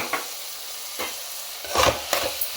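A spatula stirs amaranth leaf fry in a pan, giving a few separate scraping strokes over a low, steady sizzle, close and moderately loud, with no voices.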